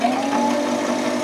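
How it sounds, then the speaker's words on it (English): A Consew CN2053R-1A industrial sewing machine's CSM1001 servo motor runs at 3000 RPM with a steady, even mechanical hum and a faint whine, close and continuous with no talking. "That's the noise of the servo motor at 3000 RPM."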